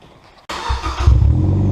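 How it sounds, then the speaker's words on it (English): A Mazda Miata with no muffler cranks and fires after a short quiet moment, its loud unmuffled engine catching abruptly and settling into a rough, raspy idle that swells up. "we're gonna do a startup with no muffler"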